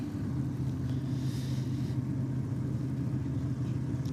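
A 1957 Chevrolet drag racing car at a drag racing event gives off a steady low engine rumble at moderate distance, droning evenly without clear revving.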